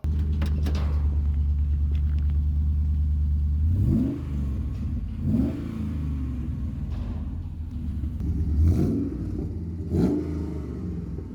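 A Holden VH with a swapped LS1 V8 idles with a deep, steady exhaust rumble through a Magnaforce crossover muffler, then revs sharply several times, each blip rising and falling back to idle.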